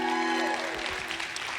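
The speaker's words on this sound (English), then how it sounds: "that's worthy of applause in and of itself." Applause rises briefly from the audience at a travel company's retreat opening night event, a short burst of clapping over lingering background noise.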